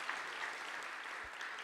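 An audience at a church gathering claps together for a few seconds, a dense, even round of applause heard at a moderate distance with no talking over it.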